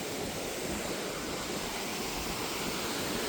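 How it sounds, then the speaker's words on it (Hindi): Water flowing down past stone bathing pools, a dense, continuous rushing roar with no voices, close and steady throughout. "पानी वहाँ से आ रहा है, यहाँ होके नीचे जा रहा है।"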